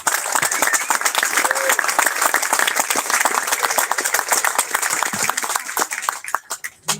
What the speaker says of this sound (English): So I think he deserves a big round of applause.